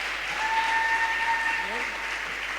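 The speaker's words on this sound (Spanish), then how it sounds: "¿Cuántos están contentos y le dan ese aplauso al Espíritu Santo?" Congregation applauding in church, steady clapping with voices and a sustained musical tone mixed in underneath.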